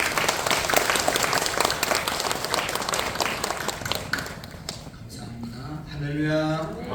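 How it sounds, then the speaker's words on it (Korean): Church congregation applauding the choir and praise team during a Sunday service, dense steady clapping that fades out, with a voice speaking near the end. "우리 찬양대 또 찬양단을 위해서 하나님께 영광의 박수 올려드리겠습니다"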